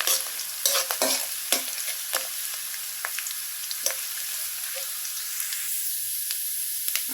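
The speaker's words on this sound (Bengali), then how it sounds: "তো আমি এখন হচ্ছে আদাটা আর মরিচটা ভালো করে একটু ব্রাউন কালার করে নেব।" Ginger and dried chili browning in oil for a kalai greens stir-fry, with a steady close sizzle punctuated by sharp, irregular spatula scrapes and clicks against the pan.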